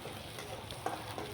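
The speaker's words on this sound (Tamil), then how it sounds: "நெக்ஸ்ட்டு கொஞ்சம் வெங்காயம் சேர்த்துக்கிடலாம்" Small chopped onion frying in oil with mustard seeds, a low continuous sizzle with a faint stir or pop partway through, close and quiet.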